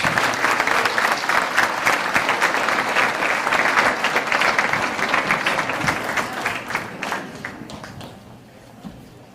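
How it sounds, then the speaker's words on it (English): A large live-show audience gives a big round of applause as the performers come on, dense clapping with sharp individual claps that stays strong for several seconds before tapering off into near quiet. "Let's give them a big round of applause"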